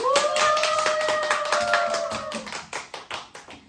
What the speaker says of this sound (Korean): 소나기 박수 해줍니다